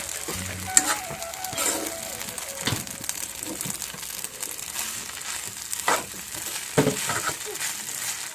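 Greens frying and being stirred in a pan, a soft crackling sizzle with scattered scraping and rustling bursts from the stirring, fairly quiet and close.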